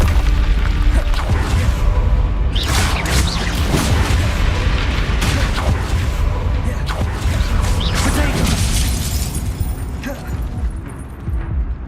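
Bombarda spell explosions in Hogwarts Legacy, a string of heavy booming blasts with crashing debris over a constant rumble of game noise, loud and close.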